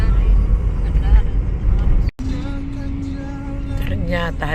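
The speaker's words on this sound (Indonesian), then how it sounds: "Ternyata hari raya juga ada macet teman-teman." Holiday traffic jammed on the road to the airport: a low, steady rumble of car and bus engines heard from inside a vehicle, under nearby conversation.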